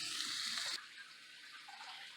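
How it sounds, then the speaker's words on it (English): Water rushes from a tap over food in a colander at a kitchen sink, a bright hissing splash for under a second that then drops to a softer, steadier trickle. "I'm going to throw this in a colander and throw some water over it"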